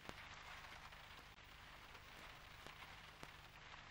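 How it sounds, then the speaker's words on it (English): Steady rain patters on a hard surface, a dense even hiss with a few sharper drops standing out; no voices, just continuous rainfall close by. "It's raining."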